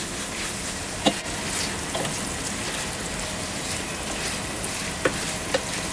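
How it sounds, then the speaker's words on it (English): Steak seasoning with Worcestershire sauce and a garlic and sea salt blend sizzles steadily in a pan, broken by a few sharp scraping clicks as it is stirred. "A quick stir so nothing sticks."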